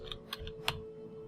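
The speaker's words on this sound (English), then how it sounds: "Press escape here, the escape key, top left on your keyboard" A few sharp key clicks on a computer keyboard, the escape key among them, sound close and crisp against a steady electrical hum in a quiet room.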